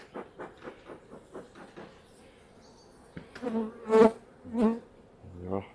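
Honeybees buzz around an open hive during swarm-control work, a series of close, pulsing buzzes that swell louder toward the end, with no talking.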